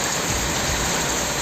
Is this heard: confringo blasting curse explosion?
no